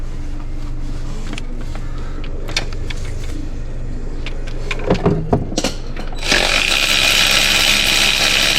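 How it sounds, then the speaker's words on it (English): An electric ratchet at work on a 2003 Kia Sorento engine during a timing belt job, its motor whirring loudly near the end after a stretch of clicks and knocks over a steady background hum. "Electric ratchet and use that one."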